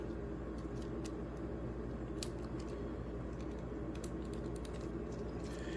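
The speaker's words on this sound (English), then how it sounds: "I'm just gonna put the screws in" Screws being driven by hand into a direct-die RAM waterblock, a faint series of small clicks and ticking ratchet-like taps over a steady low hum, close and quiet.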